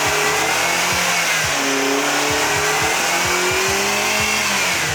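Car engine running on nacho cheese in place of engine oil, revving hard and loud up close, with a steady roaring drone broken by repeated rising pitch sweeps and no talk over it.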